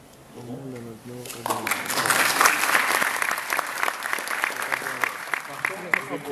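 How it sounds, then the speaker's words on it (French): An audience at a French pitch event bursts into sustained clapping after a voice speaks briefly at the start, the applause swelling quickly and holding dense and lively to the end. "moi j'aimerais encore des applaudissements."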